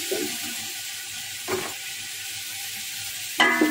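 Chicken pieces fry in a hot pan with a steady, close sizzling hiss, broken by a couple of stirring scrapes and clunks.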